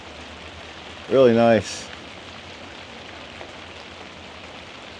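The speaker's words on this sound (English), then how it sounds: "Oh, this rain is awesome." Steady rain falls on a hot tent shack, a continuous even hiss of drops that fills the whole stretch, with one brief spoken remark near the start.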